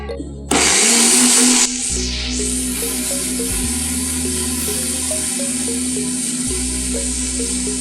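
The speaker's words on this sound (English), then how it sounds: "So we've blended our spices together very well." A kitchen blender roars loud and close as it purees dry red chili, ginger and grains of Selim in water, a continuous motor whine that shifts pitch as the load changes and runs on steadily.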